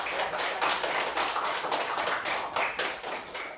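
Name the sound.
class clapping for group 4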